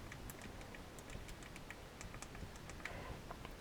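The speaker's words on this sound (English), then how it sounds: "So let's give this keyboard a quick test." Fast tapping on the physical keyboard of a BlackBerry Curve 9320, a run of small, light, close clicks in an irregular rhythm, quiet and without talk.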